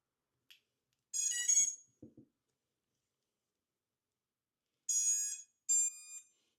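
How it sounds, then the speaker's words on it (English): An FPV drone gives a series of short, sharp electronic check beeps after its battery is connected: a quick tone cluster, a brief pause, then two final beeps, clear and close in otherwise near silence. "These beeps are checks for the drone."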